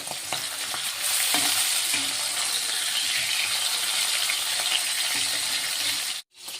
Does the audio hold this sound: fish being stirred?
yes